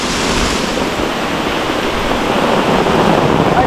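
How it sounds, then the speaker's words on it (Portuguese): Rainwater pours and streams off a camp shelter set up during heavy rain, a dense, steady rushing wash close by, with no talk. "Gente, olha como é que tá escorrendo a água aqui."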